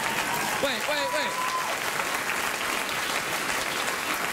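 Studio audience applause on a late-night talk show, a dense, steady wash of clapping that starts right away and continues throughout, with a brief voice audible at the start.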